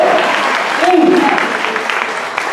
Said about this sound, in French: Laisse-moi applaudir le Seigneur pour ça.